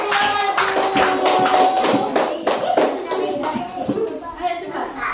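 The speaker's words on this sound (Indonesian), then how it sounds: "Ayo kita tepuk tangan dulu buat kelompok 2 maju." A classroom of fourth-grade children claps together for a group heading to the front, rhythmic sharp hand claps mixed with children's voices and chatter.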